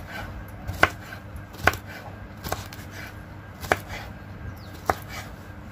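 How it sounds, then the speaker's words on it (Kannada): A knife chops tender ridge gourd on a board, a handful of separate, sharp cuts spaced about a second apart over a low steady kitchen hum. "ಇದಷ್ಟನ್ನು ಈ ರೀತಿ ಹೆಚ್ಕೊಳ್ತಾ ಇದ್ದೀನಿ."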